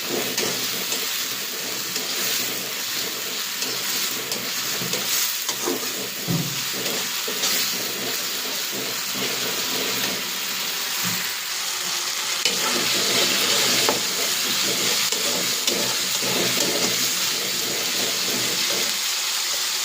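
Crab curry masala sizzles loudly in a pan, a dense continuous frying hiss with steam, broken by irregular scraping strokes as it is stirred, close and steady for about twenty seconds.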